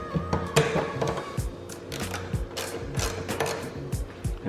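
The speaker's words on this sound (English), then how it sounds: "Now I'm going to tighten up the computer bolts." Ratchet wrench tightening the PCM computer bolts on a Dodge Hellcat, giving a close series of rapid mechanical clicks and ratcheting bursts with small metallic knocks, steady throughout with no talking.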